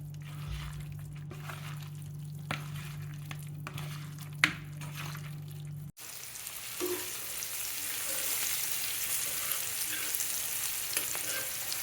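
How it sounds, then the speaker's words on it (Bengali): Onions frying with garam masala in a pan for a home-cooked dal meal, a steady quiet sizzle with occasional stirring clinks and a brief sharp knock partway through, no talking. "এখানে গরম মশলার পেঁয়াজগুলো ভেজে নিচ্ছি"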